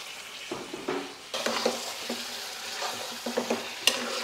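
Mutton pieces dropped into a pan of fried onions set off a sudden burst of sizzling, with stirring scrapes and a few light utensil taps, fairly close and steady.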